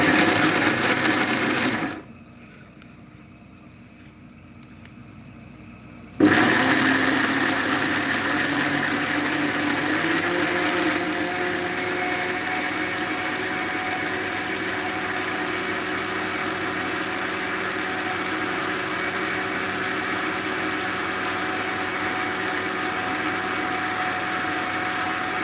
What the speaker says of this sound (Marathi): मी मिक्सर लावते, आवाज जरा जास्त येणार आहे।